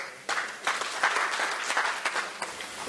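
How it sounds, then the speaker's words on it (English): Applause from an audience at a business forum on non-ferrous metals welcomes a speaker to the stage, a steady patter of clapping from many hands that lasts a few seconds, moderately close and fairly soft. "I request all to welcome Dr. Gupta with a round of applause."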